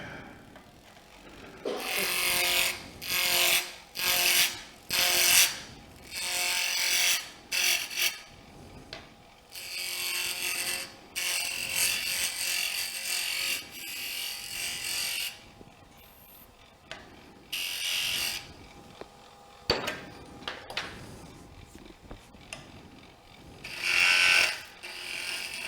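A spindle roughing gouge cutting wood on a lathe while turning a pen part: repeated bursts of harsh, rasping scraping, each lasting about a second, separated by short pauses over a low machine hum, close and fairly loud, with no talk.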